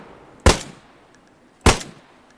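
Two sharp, loud gunshots from the video game DayZ, about a second apart, each a single crack with a short decaying tail, with no talking.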